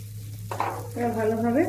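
Boiled rice is tipped into hot oil with vegetables in a pan for Bengali-style white pulao, giving a short rising sizzle and stirring scrape, with a continuous low hum underneath.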